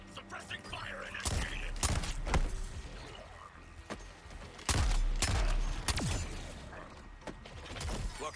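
Gunfire in the video game Suicide Squad Kill the Justice League: several loud, sharp bursts and thuds scattered unevenly among other game action sounds, with a voice speaking between the shots.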